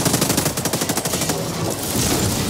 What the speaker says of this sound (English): The turret is shooting!